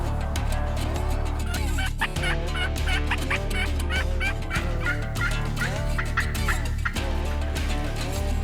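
A Merriam's wild turkey gobbles repeatedly on Idaho public land late in the hunting season, loud rattling gobbles arriving in overlapping bursts against a steady low background, with no speech.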